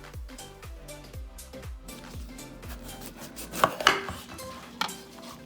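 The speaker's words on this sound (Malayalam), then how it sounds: "ഇനി ക്യാപ്സിക്കം അഥവാ ബെൽ പെപ്പർ മുറിക്കാൻ പോവുകയാണ്." Knife slicing through a capsicum (bell pepper) on a cutting board while preparing a salad, a run of crisp, regular chops close by, with a few sharper knocks near the end and no talking.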